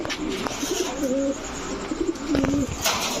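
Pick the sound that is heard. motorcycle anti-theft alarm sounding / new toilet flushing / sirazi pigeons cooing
sirazi pigeons cooing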